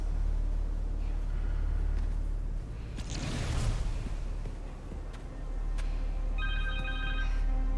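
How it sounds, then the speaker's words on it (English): A phone rings in Marvel's Spider-Man 2, its bright electronic ring tones coming in near the end over a steady game background with a whooshing swell in the middle. "Phone."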